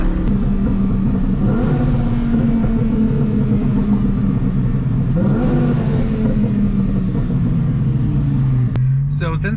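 Loud, close engine roar of a custom-tuned twin turbo Lamborghini Huracan accelerating hard, pitch climbing in two surging pulls before easing off, with a voice talking over it.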